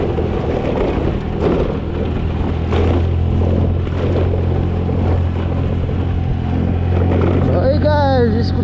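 A scooter cruises along a highway between Lamjung and Kathmandu in Nepal, its steady engine drone mixed with a deep wind rumble throughout, and a faint whistling squeal near the end.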